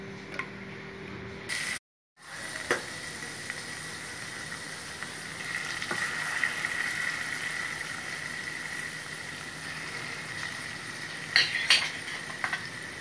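Boiled colocasia and mixed vegetables go into hot tempering in a pan, followed by a soft, steady sizzle with a few light utensil clinks and a brief break near the start.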